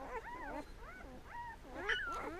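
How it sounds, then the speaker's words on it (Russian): Newborn puppies, six days old, whimper and squeal in a quiet setting, a string of thin high rising-and-falling cries close by, some overlapping, with no talking. "А у нас родились собаки."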